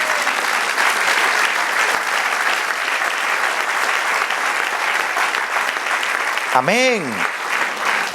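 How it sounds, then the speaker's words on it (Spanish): Church congregation applauding during a sermon, sustained dense clapping for about eight seconds, with a voice calling out briefly near the end over the applause. "Denle un aplauso al Señor"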